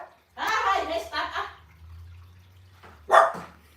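A dog with a heart condition barks indoors in a short, sharp burst near the end, following a stretch of close conversation and a low background hum.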